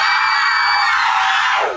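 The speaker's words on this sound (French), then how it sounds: "les murmures se transformèrent en cris déchirants." Piercing, sustained screams as a sound effect in a spooky forest tale, a loud, harsh wall of overlapping shrieks held steady before falling off at the end, with no talk over it.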